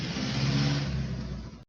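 A car engine sound effect hums and revs steadily at moderate loudness for under two seconds, then cuts off abruptly.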